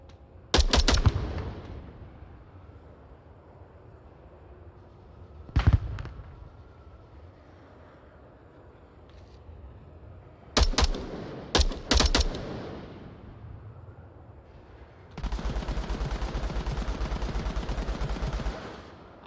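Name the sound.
gunfire exchange in VR video game Onward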